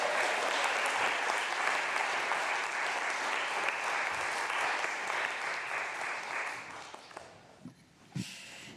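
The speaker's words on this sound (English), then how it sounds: "our dancers a big round of applause." A congregation applauds dancers at a church service, with steady, dense clapping filling the room that slowly fades and thins near the end, leaving a few scattered sounds.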